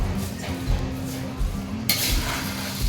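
Spice masala being stirred and mixed in a hot pan while preparing Diwali faral snacks, giving soft continuous scraping and shuffling with occasional light clinks of utensil on metal, close and steady with no talk.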